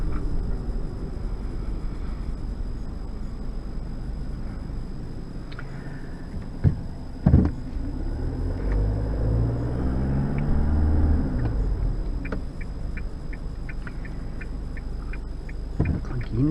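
A 2021 Isuzu D-Max ute cruising at about 80 km/h with a steady low engine and road drone, a couple of sharp knocks, and a run of regular indicator ticks near the end.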